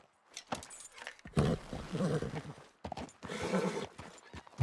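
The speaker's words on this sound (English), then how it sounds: "How do I calm the horse down?" Horse in the video game Red Dead Redemption 2, with irregular hoof clip-clops and rustling, broken by brief silences, then two louder bursts of agitated snorting or whinnying.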